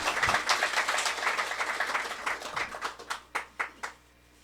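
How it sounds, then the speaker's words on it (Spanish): A congregation at a Quechua-language evangelical church service in Huanta claps together for Jesus: dense, sustained applause that thins into a few loud, separate hand claps near the end. "Dale palmas a Jesús como se le merece a él."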